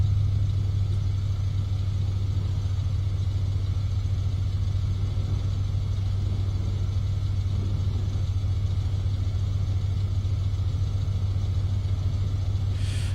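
BR294 diesel locomotive engine in Train Simulator 2016 on the Munich–Augsburg route, a steady low rumbling drone that holds at an even, fairly loud level throughout with no speech.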